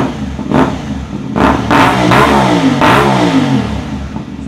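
A motorcycle engine with an aftermarket Acra dual-hole exhaust revs repeatedly with a loud, deep exhaust, blipping the throttle in several bursts over a steady idle.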